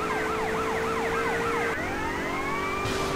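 A police car siren wails continuously while the car drives in the video game GTA Vice City. The loud, rapid cycling tone switches to a slower sweeping pattern partway through, over a steady engine drone.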